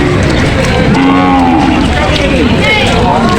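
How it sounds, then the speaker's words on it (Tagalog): Cattle moo loudly and repeatedly while being loaded onto a truck at the Lucena auction market, with long drawn calls over steady crowd and yard noise, one wild animal among them. "May wild na baka kinakargaw."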